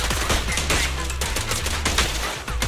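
Gunfire in the video game Zenless Zone Zero, dense rapid bursts of shots mixed with loud game effects, continuous and close throughout.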